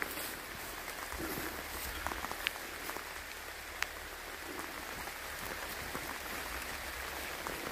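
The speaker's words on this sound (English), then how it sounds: "It's still raining." Steady, faint rain hisses down over a pumpkin field in St. Ann, Jamaica, an even wash of patter with a few sharper drops, heard from under shelter.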